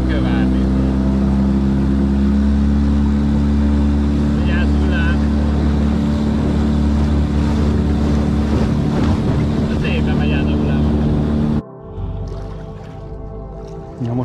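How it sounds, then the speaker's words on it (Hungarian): A small 99 cc four-stroke motorcycle engine runs steadily and loudly up close with a low droning hum, wind buffeting the microphone, then cuts off abruptly near the end, leaving quieter background sound. "Na most 99-es motor, szóval 99-es négy ütemű csodát nem kell várni."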